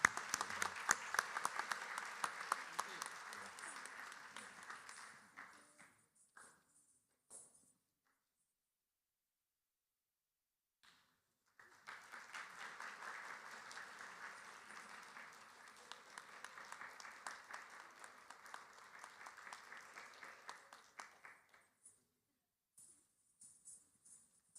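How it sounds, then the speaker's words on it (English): An audience claps and cheers after a Bharatanatyam arangetram dance performance, a dense roomful of applause that fades out, pauses briefly, then swells again before trailing off into scattered claps. "So let's hear a big round of applause for Noopur."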